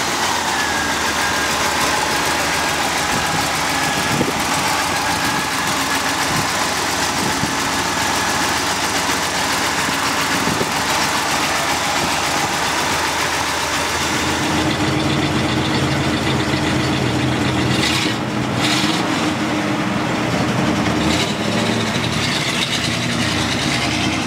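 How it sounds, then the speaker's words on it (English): A 1966 Pontiac GTO convertible engine idles with a steady, close, rumbling drone that shifts in tone partway through, alone with no talking. "Let's take the old convertible for a ride. GTO convertible, love driving it."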